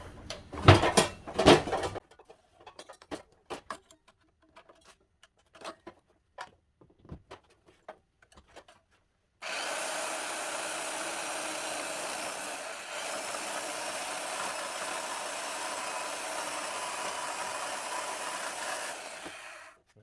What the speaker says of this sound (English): I'm gonna see if I can cut these two off with the bandsaw here.